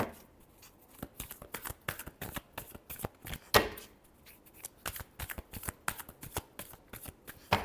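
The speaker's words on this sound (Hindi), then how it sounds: "Last shuffle, 8 of wands." A deck of tarot cards is shuffled up close in quick riffling bursts with short pauses between them, crisp and fairly quiet, and no speech is heard.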